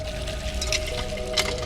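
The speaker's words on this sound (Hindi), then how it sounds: "रमेश को हैंडपंप चलने की आवाज साफ साफ सुनाई दी।" Water splashing and pouring from a village hand pump as it is worked, a steady wet rush with a couple of brighter gushes, fairly near.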